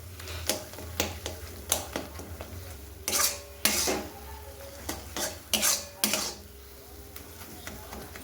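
Matar paneer with yogurt and cashew paste being stirred in a pan, a series of scraping, clinking strokes against the metal, some quick and sharp, others longer and rasping, close and moderately loud over a low hum.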